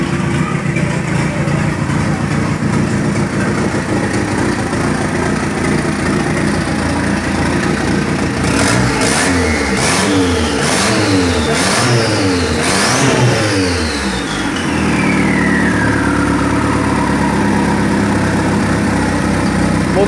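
A turbocharged 1.8 petrol engine in a Parati idles loudly, then revs up in a quick series of sharp throttle blips before settling back to a steady idle, close up with no talk.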